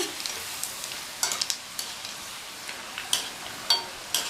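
Rava pakoda sizzles steadily in hot oil. Sharp spatula taps and scrapes break in every so often as the fritters are turned, with no voices.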